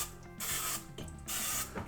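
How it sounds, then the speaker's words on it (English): A spray bottle mists avocado oil in a kitchen, giving two short, soft hissing bursts separated by brief pauses, fairly close and without talk. "I'm gonna give these a spray of avocado oil after I wash my hands."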